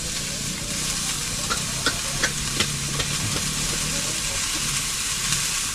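Corned beef frying in hot oil gives a loud, dense, continuous sizzle with light crackling pops throughout, close up and with no one talking.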